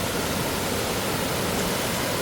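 Clear, cold water in Sapadere Canyon rushes in a steady, dense roar, close and continuous, with no voices over it.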